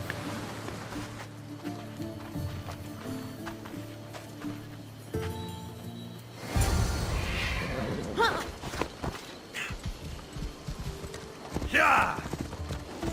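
Horse hooves clip-clop at a riding pace in an action video game set on sunny Greek islands, steady and moderately close, layered under background music and game sounds with bursts of louder activity.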